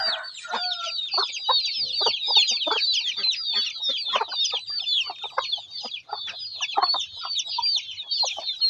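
A flock of chickens and young chicks cluck and peep nonstop, a dense chorus of high, rapid chirps layered over lower clucks, close and fairly loud.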